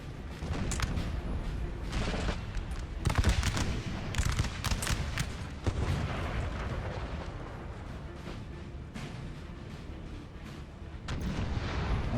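Dense battlefield din from Napoleon Total War, with artillery and musket fire booming and crackling continuously at mid distance throughout, punctuated by heavier thuds, with no talking.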